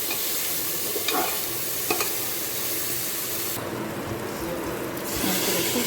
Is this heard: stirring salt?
yes